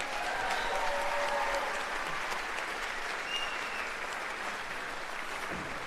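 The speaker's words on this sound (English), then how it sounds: "Give them one more round of applause." Sustained audience applause for a student county orchestra, a dense steady wash of clapping from a large crowd in a hall, without a break for the full length.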